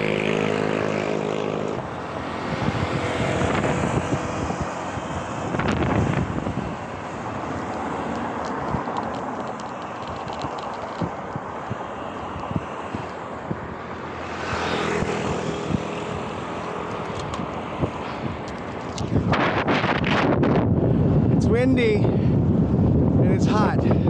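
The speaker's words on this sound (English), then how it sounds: "Be grateful for the wind because it's in my face. We've got a headwind." Strong headwind buffets the microphone during an outdoor ride, a heavy roaring rush that swells and fades in gusts for most of the clip, loudest near the start and end.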